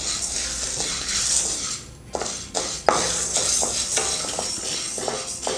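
Horse gram dry-roasts in a pan and is stirred with a utensil. A soft, steady sizzling hiss runs under repeated close scraping and tapping strokes, with no talking.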